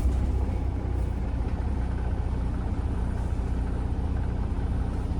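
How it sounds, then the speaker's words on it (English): Diesel truck engine idling with a steady low rumble, close and constant with no other sounds over it. "And start the truck."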